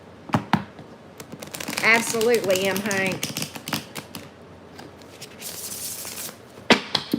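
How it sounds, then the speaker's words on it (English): Tarot cards are shuffled in a few sharp riffling bursts of crisp clicks and taps, mixed with a person talking nearby. "One more shuffle."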